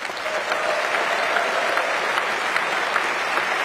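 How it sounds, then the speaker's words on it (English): Audience applause at a Labour party conference following a speech, a steady dense clapping that holds loud and even throughout with no talk over it. "she did get a good applause for that"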